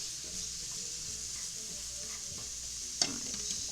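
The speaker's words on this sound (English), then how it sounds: "These carrots are cooking nice." Carrots cook in a pan for late-night peanut noodles, giving a soft continuous sizzle with faint stirring scrapes and one sharper utensil clink near the end, close and quiet.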